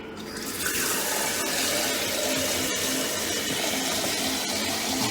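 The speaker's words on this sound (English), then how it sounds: "And I am also going to add some water." Water pours steadily and loudly into a pot of potato leek soup with chicken broth for several seconds, a continuous rushing splash with no voices.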